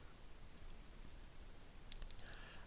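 A computer mouse double-clicks twice in quick succession, crisp and close, then a few more faint clicks follow against a quiet hiss, with no one talking.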